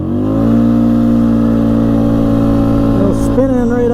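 An ATV engine at full throttle on a top speed run, a loud steady high-revving whine that holds near, then shifts pitch near the end as it keeps pulling.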